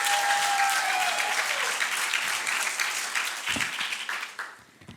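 Sustained applause from an audience at an awards event honoring a young poet, a full wash of clapping that thins and fades toward the end, with a brief voice near the start.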